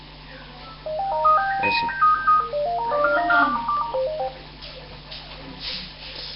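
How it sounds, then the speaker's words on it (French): A mobile phone ringtone plays a bright, stepped electronic melody twice in a row during an online gaming match, loud and close, with a brief voice in the background. "désolé pour le bruit de téléphone."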